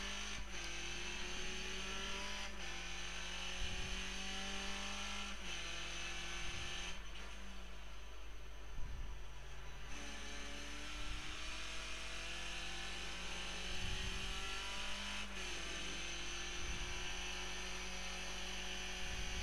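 A Skip Barber race car in the iRacing sim climbs through the revs on a Montreal circuit, its droning engine rising in steady pitch sweeps broken by short gear-change dips, continuous and even with no voices.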